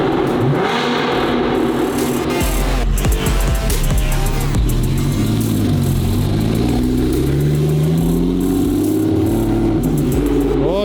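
A 720 GTR with a 1300 hp built motor by Gintani revs loudly and continuously close by, the engine note rising and falling through repeated throttle blips.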